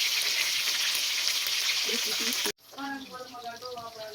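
Fish sizzles loudly and steadily while frying in a pan, then the sound cuts off abruptly and a quieter scene follows with a voice talking.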